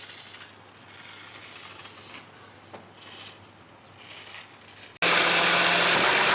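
A Honda car engine idles with a steady low hum for about five seconds, then a loud, broad hiss abruptly cuts in and covers it.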